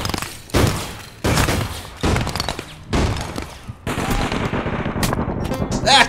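Bursts of automatic gunfire in the shooter game APB Reloaded, several loud, close volleys a second or so apart, the last one longer and trailing into scattered shots.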